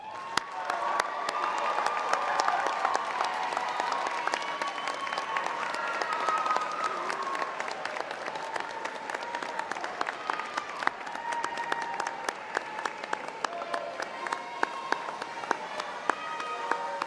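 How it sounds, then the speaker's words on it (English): A graduation audience applauds parents and families in a large hall, sustained crowd clapping holding steady for well over fifteen seconds with faint voices and a few cheers mixed in. "Let's thank them with a round of applause."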